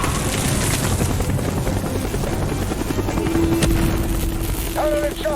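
Helicopter in the Call of Duty: Black Ops video game, a loud steady rotor thump and engine drone throughout amid gunfire-like bursts and a rising tonal whine.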